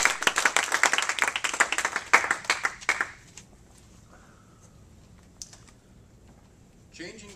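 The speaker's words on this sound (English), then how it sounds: "Let's give them a round of applause, guys" An audience gives a round of applause for Kevin at a live event, a dense burst of many hands clapping for about three seconds before stopping abruptly into a quiet room with a couple of faint later sounds.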